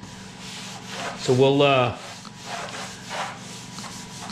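Sandpaper of 120 grit rubs across a reclaimed chestnut wood farmhouse table in soft, repeated strokes, with a brief voice speaking over part of it.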